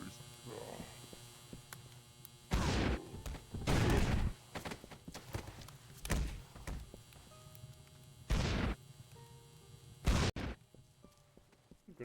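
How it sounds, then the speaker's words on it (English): Grenade explosions in a poorly rated Steam video game, several separate loud booming blasts spaced a second or two apart over a constant electrical hum. "Some more grenades."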